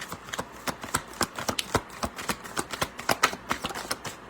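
Rapid riffle-shuffling of a card deck, a quick series of crisp flutters and taps repeating steadily, close and fairly loud with no talk.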